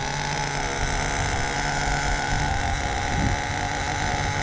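An HPI Savage XL nitro RC truck with a Force .32 engine idles steadily, a continuous loud buzzing drone with no pauses or revving, and no talk over it.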